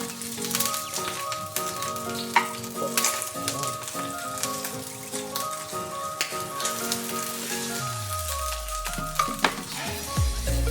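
Spicy squid (pusit) fries in a hot pan in a backyard cooking setup, giving a continuous crackling sizzle with dense pops and stirring clatter. A brief descending tone appears near the end.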